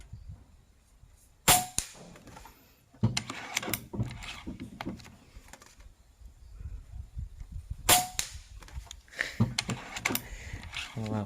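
Pellets from a Snowpeak M60B air gun striking metal targets, heard as sharp, bright impacts at about 1.5 and 8 seconds among scattered clicks, ticks and handling noises.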